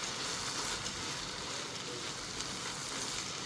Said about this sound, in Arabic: شوح بقى الرز حلو خالص كده